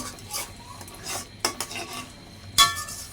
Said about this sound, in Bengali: এই মশলাটাকে ভালোভাবে কষাবো।